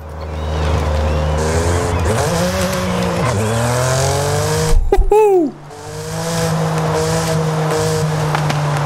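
A BMW M4 tuned for drifting in Forza Horizon 5 revs loudly and steadily, its engine note rising and falling through gear changes with tire squeal, a brief sharp break midway, then sustained high revs.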